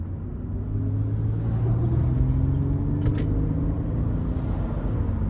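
A 2008 Lexus ES 350 with a 3.5-litre engine and 184,000 miles runs steadily from the cabin in manual shift mode, a continuous low engine and road rumble with a faint brief rise from a gear change.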